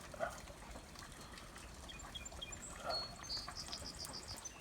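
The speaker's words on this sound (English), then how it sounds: "I hear the tree frogs" Faint chirping calls of tree frogs come from a distance over soft background noise after rain on a pasture with a creek, with scattered peeps rising and falling.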